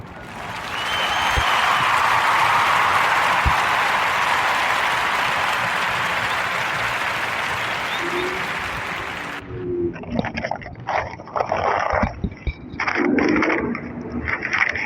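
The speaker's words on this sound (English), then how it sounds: "give a warm Narrator podcast round of applause for Marcel Nash and The Good Water" A podcast audience applauds in a steady, loud wash of clapping for about nine seconds, then it cuts off abruptly. Scattered bumps and faint voices follow.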